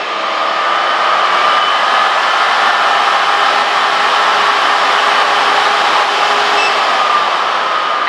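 A nail dust extractor on its second setting gives a loud, steady whirring motor noise with a high-pitched whine, unbroken from start to finish, close and constant.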